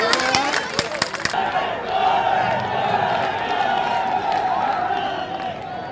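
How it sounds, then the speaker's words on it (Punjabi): A large political rally crowd claps sharply for a moment, then breaks into a loud, sustained roar of cheering and shouting that continues steadily to the end. "ਠੋਕੋ ਠੋਕੋ ਜ਼ੋਰ ਸੇ ਠੋਕੋ ਤਾਲੀ"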